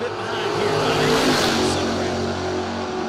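Engines roar and rev as vehicles, one a Ford pickup truck, launch at a drag racing memorial event, loud and sustained with a rising, sweeping pitch across the run, while an announcer talks over it.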